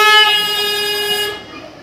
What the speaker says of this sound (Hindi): और पीछे भी हॉर्न की आवाज़ आ रही है।